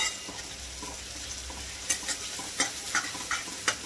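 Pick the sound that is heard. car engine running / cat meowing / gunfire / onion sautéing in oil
onion sautéing in oil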